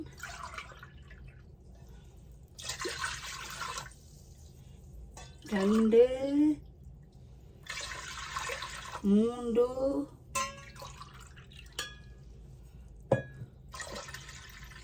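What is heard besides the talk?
water poured into a cup while cooking black kavuni rice porridge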